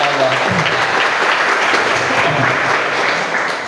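Dense, sustained applause from a group at an Islamic Quran-reading lesson for schoolchildren, loud and continuous for several seconds before tapering slightly at the end.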